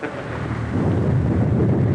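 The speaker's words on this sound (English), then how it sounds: "it's going to be 3 days before this storm blows over" A thunderstorm with heavy, continuous low rumbling thunder that builds and holds steady for the whole stretch, loud and close, with rain noise mixed beneath and no voices.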